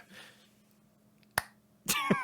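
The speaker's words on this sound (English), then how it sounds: "little clap before speaking." A single small hand clap, sharp and close, in an otherwise quiet interior before a voice begins to speak.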